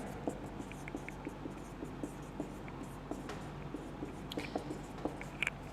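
A teacher writing the subset sign on a board, with small scratchy taps and strokes scattered across a quiet room, close and faint, with no talking.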